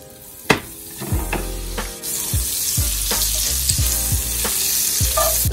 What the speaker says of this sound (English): I'm going to fry now the pork schnitzel, the breaded pork